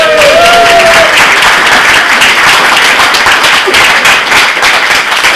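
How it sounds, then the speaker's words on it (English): Audience applause at a zine culture discussion panel, loud and dense clapping from a close crowd that holds steady without a break. "a round of applause for Graham Burnett"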